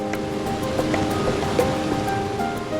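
Churning river water rushes through a canyon in Guizhou, China, a close, full and continuous roar with small splashes rising now and then out of the steady wash.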